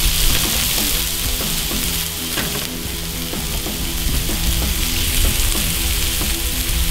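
Smash burgers sizzling loudly on a Cuisinart 360 griddle, a dense, steady crackling hiss with spitting pops, close and continuous, while music plays underneath.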